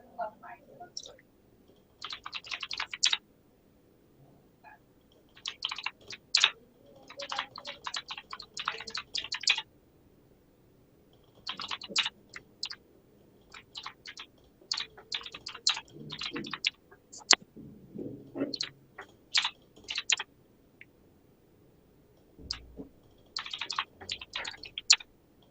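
Typing on a computer keyboard, bursts of quick close clicking separated by quiet pauses, with faint murmuring and an occasional distant bird in the background.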